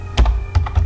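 Keys clack on a computer keyboard as code is typed, a few quick close strokes in an uneven burst with no talk.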